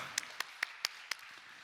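Five sharp, evenly spaced claps of applause ring out in a church Bible study, fairly faint and slightly distant, followed by a few softer taps.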